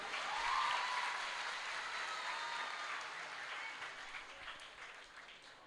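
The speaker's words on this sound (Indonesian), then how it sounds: "Tepuk tangan untuk Bang Andi" Applause from the audience at an Indonesian santri talk show, welcoming Bang Andi; a burst of clapping that peaks early and slowly thins out, moderately faint, with no speech.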